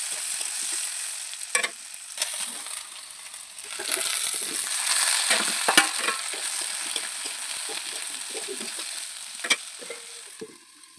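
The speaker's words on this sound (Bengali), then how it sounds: "এরপর কড়াইয়ে একটু তেল দিয়ে আলু আর বেগুনটাকে ভাজা ভাজা করে নেবো।" Potatoes and eggplant fry in oil in a wok, a soft continuous sizzle with occasional stirring clinks and scrapes, fairly quiet and close, with no talk.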